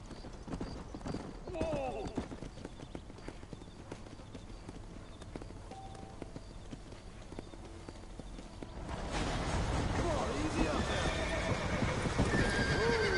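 Horses clip-clop along and whinny in the Red Dead Redemption video game, hoofbeats steady and moderately close, growing louder and busier toward the end, with someone speaking over them.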